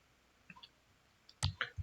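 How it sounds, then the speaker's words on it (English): A couple of light mouse clicks, close and quiet, as a save button is pressed on a computer during cloud console work; no talk. "Click on save guys."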